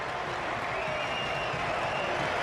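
German fans in a packed football stadium roar after a goal, a steady, dense crowd wash with scattered applause and cheering sustained at full level throughout.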